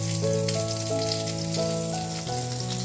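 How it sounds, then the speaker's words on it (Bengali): Katla fish fries in a pan with a continuous hissing sizzle, while a steady tonal hum or music sounds over it the whole time. "মাছটা ভাজা বসে দিয়েছি মাছটা ভাজা হোক"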